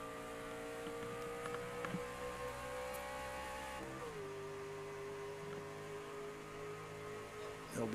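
Racing truck engine on track in a racing video game, a steady droning hum with tonal whine that shifts pitch down midway, as if changing gear, continuous and moderately loud.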